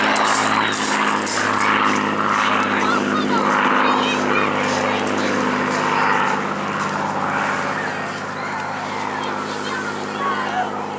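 A North American P-51D Mustang 'Marinell' flies at the Eastbourne Airshow, its propeller engine a steady droning roar at a distance, rising and easing as it passes, heard beneath continuous commentary.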